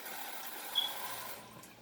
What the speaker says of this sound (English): I'm going to add just a little bit more water to it